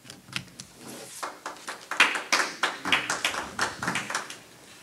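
Scattered applause from an audience at a Brookhaven city council meeting, a few people clapping in a loose, uneven rhythm that builds briefly and then thins out.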